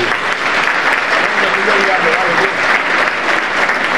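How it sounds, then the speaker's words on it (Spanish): A festival audience claps for a stagehand named Pedro, producing continuous loud applause from many hands with faint voices and cheers mixed underneath. "Un aplauso a Pedro."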